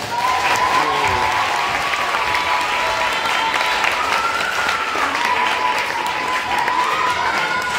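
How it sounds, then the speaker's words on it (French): A concert crowd gives loud, sustained applause with some cheering at a band's first show, while a voice talks over the clapping the whole time. "Le public, applaudissez à ce soir."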